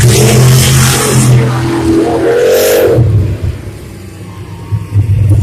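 Monster truck engines at a monster truck race, loud throaty revving with rising whines and a deep rumble, then dropping to a lower idle before another surge, heard up close for several seconds.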